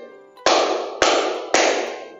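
Three crisp, evenly spaced hand claps from a classroom clapping exercise, each a loud sharp strike with a short decaying tail, heard alone without speech.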